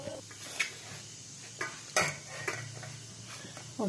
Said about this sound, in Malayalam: എന്നിട്ടൊന്ന് സ്പൂൺ കൊണ്ട് ഇങ്ങോട്ട് ഇളക്കി കൊടുക്കണം ഫസ്റ്റ്